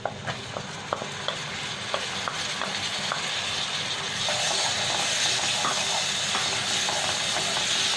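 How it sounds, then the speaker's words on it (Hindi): Chopped tomatoes sizzling in a hot pan and being stirred for paneer butter masala, a few spoon clinks and scrapes at first, then a loud, steady hiss of frying that swells as they hit the oil. "Now we will add in 2 cups of tomatoes."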